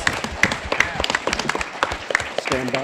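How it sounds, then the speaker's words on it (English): Applause from a convention panel audience for the AV team, a dense burst of clapping from a room of people that tapers off as someone begins speaking near the end. "Let's have a round of applause for them for allowing us to hijack."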